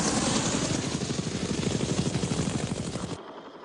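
A UH-1 Huey transport helicopter from the Vietnam War era flies close by, its rotor blades beating a loud, rapid, continuous chop that cuts off abruptly near the end.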